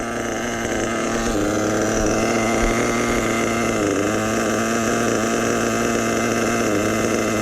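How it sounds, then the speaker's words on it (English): A nitro RC car engine idles steadily with a richened fuel mixture, a continuous buzzy drone with small wavering dips in pitch, close and loud throughout, outdoors in cold weather. "I richened up the low end. That's why the idle dropped."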